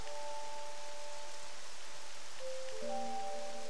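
Steady soft hiss of rain falls throughout a game scene in Octopath Traveler II, with sustained musical tones held above it and no voices.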